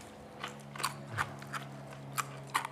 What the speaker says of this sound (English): Now, we know you can hear us crunching